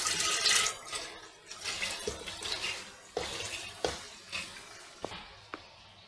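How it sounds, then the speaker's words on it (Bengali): Water poured into a pressure cooker holding chana dal, a splashing gush at first that turns into intermittent pours and sharp drips and sloshes, close and moderately loud. "পরিমাণ মতন জলটা দিলাম।"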